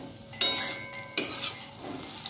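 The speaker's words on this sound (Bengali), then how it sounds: "বাদামটা দিয়ে মিক্সড করে দেবো" Nuts being stirred into a breakfast mixture in a pan, with a couple of sharp utensil clinks against the pan followed by scraping and rustling movement, close and moderately loud.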